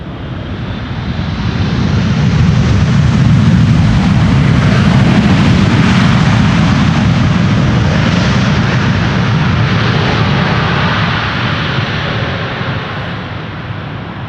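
A two-year-old Boeing 777 freighter, first flown in March 2023, arrives at Amsterdam Schiphol in gusty crosswind, its engine roar swelling loud and steady for most of the pass before easing off, with no talk.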